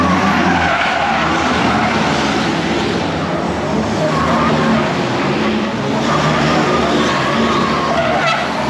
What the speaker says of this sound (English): We got some tight racing going on.